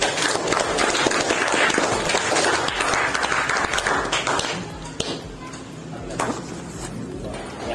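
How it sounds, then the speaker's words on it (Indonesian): A classroom breaks into applause, with dense clapping from many students that fades to scattered claps and a few taps. "Beri tepuk tangan untuk"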